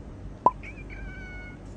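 A house cat gives a brief meow during a morning feeding routine, a short sharp call followed by a thin, drawn-out whine at moderate volume in a quiet room.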